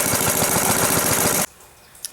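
A small Briggs & Stratton engine runs with a fast, rough putter close by for about a second and a half, then cuts out abruptly, leaving near silence with a faint click.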